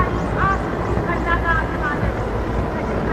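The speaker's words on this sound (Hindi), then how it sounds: "और आकाश में Mi-17 हेलीकॉप्टर्स कार्यक्रम स्थल के नजदीक आते हुए और पुष्प वर्षा कर रहे हैं आकाश से" Mi-17 helicopters flying near the 76th Independence Day ceremony at the Red Fort, a loud continuous rotor and engine drone with crowd noise beneath and a voice talking over it.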